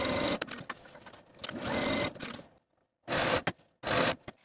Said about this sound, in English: Sew the side seams with a 3/8 inch seam allowance and finish your seams.